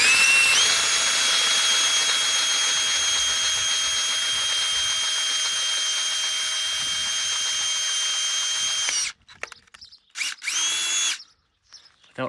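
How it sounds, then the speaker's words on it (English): A power drill bores out the top hole for a grease zerk on a homemade tow-behind padfoot roller, giving a steady high whine for about nine seconds, then stopping and starting in a few short bursts. "So I have to drill this top hole out."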